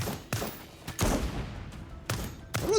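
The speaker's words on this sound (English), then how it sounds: "What's broken about this shotgun turret?" A shotgun turret fires in the video game Lost Skies, letting off four heavy, booming blasts at irregular intervals, each one ringing out briefly before the next shot.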